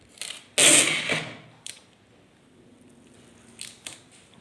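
A zCut-9 automatic tape dispenser cutting tape in auto mode: a brief whirring feed and snip, followed by a few softer clicks and mechanical ticks, close and fairly quiet with no talking.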